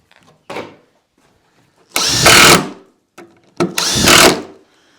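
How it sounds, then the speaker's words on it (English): A power drill drives two-inch screws into wood for a wishing well build, with a brief blip followed by two loud, sustained whirring runs of about a second each. "So I've started a couple of screws just to temporarily hold it in place."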